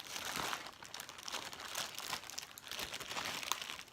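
Someone works at opening a plastic mail package of squishy toys from Banggood, producing continuous close, quiet crinkling and rustling of plastic with no speech.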